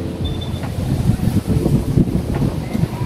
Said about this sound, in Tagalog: Super mahangin.